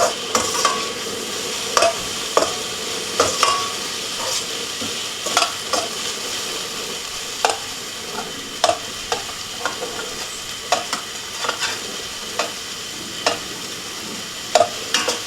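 Chicken sizzling and stir-frying with garlic in a hot pan over an outdoor grill, a steady crackle broken by regular scraping clanks of a utensil against the pan.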